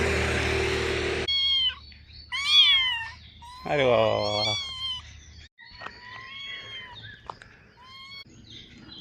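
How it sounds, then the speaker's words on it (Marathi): A small kitten meows repeatedly in thin, high cries, close by, on a mountain pass road, with a short exclamation from a person and birds faintly in the background. "हे मांजराचं पिल्लो इथं मला घाटामध्ये सापडलं"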